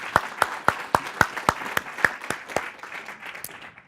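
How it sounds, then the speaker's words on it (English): Rhythmic, evenly spaced claps lead a small round of audience applause at a city's state-of-the-city address, a crisp beat of about four claps per second that loosens and fades into scattered clapping. "So I'd like to start with a big round of applause for all of you being here."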